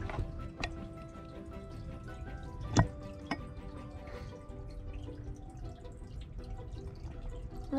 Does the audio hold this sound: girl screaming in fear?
no